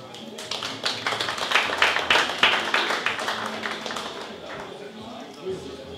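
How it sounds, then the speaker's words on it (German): An audience applauds at the official weigh-in for a world championship boxing night in Hamburg, a dense burst of clapping that swells, peaks and tapers off over several seconds, with voices mixed in. "bitte ich Sie um einen großen Applaus"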